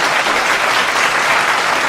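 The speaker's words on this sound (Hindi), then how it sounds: "एक बार जोरदार ताली बजाइए" Loud, dense clapping from an audience at a Hindi comic poetry recital (kavi sammelan), steady and continuous throughout with no voices on top.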